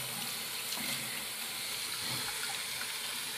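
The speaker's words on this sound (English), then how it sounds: "this is the waterfall pouring down" Water pours steadily down a toy waterfall in a continuous, close splashing rush with no pauses.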